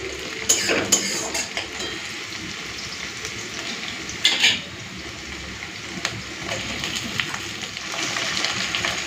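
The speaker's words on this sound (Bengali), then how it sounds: "পেঁয়াজের সাথে চিংড়িটাকে হালকা ভেজে নিই" Prawns fry with onion and garlic in a pan, a steady hiss of sizzling oil broken by a few sharp clinks and scrapes of a utensil, close and continuous.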